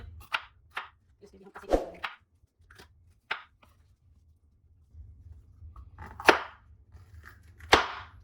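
A knife chops vegetables, including bell peppers and tomatoes, on a cutting board in irregular bursts of sharp taps, close by, with quiet pauses between strokes.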